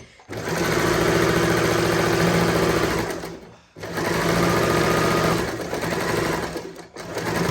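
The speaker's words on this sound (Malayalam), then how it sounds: "ഇനി നമുക്കിത് അടിക്കണം എങ്ങനെയാണെന്ന് നോക്കാം" A sewing machine stitches a saree blouse up close in two long, loud bursts of rapid mechanical whirring, separated by a short pause and ending with a brief stop near the end.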